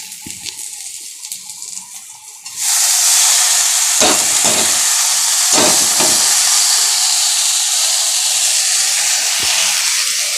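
An unsealed pressure cooker vents steam in a loud, steady, close hiss that bursts in suddenly after a quieter stretch of faint kitchen noise, then holds for several seconds with a few soft knocks beneath it.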